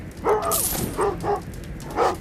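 Dogs bark in the video game Thief, several sharp close barks with yips spaced across a couple of seconds, standing alone without talk.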